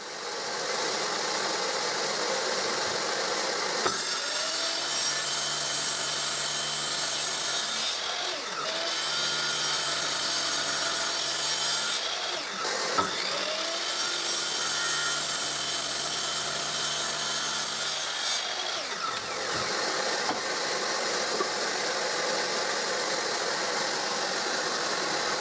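A power saw cuts wooden pieces to length for a display cabinet, a loud steady whine holding through two long passes with brief dips between cuts.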